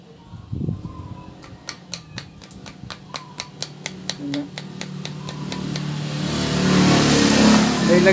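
A freshly overhauled Honda TMX155 motorcycle engine idles with a rapid, evenly spaced ticking clatter, then revs up into a louder, rougher roar near the end, close by.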